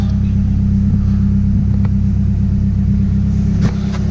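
Car engine idling after a welded exhaust repair, a loud, steady low rumble close by with a brief rev near the end.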